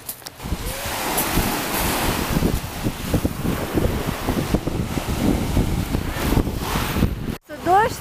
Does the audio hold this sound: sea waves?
yes